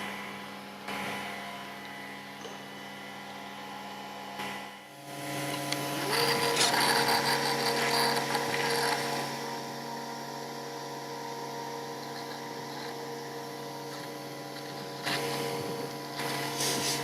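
A Festool Conturo KA 65 edge bander running on lipping, a steady mechanical hum with tonal whine that gets louder and busier partway through, then settles into a constant drone.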